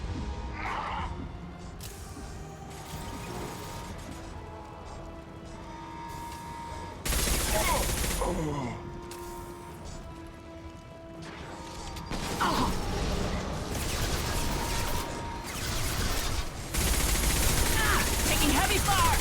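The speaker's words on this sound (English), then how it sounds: "Taking heavy fire." Heavy gunfire in a video game, with bursts of loud rapid shots and crashes coming in waves between quieter mechanical stretches and fading tones.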